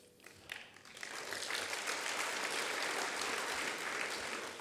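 Audience applause at the Santa Monica State of the City 2020 event, a few scattered claps swelling after a second into broad, sustained clapping from a large crowd, moderately distant.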